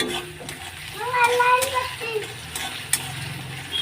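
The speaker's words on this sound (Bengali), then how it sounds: "আমরা এবার পেঁয়াজটাকে নাড়বো" Onions stirred in a pan give soft scraping and a light sizzle, with a few sharp utensil clicks against the pan, while a voice talks over parts of it.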